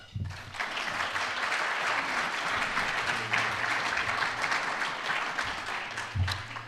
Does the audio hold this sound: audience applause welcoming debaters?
yes